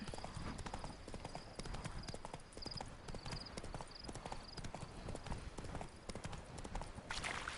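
Roach, a horse in the video game The Witcher 3, trots with quick, steady clip-clopping hoofbeats, close and continuous over a soft ambient game background.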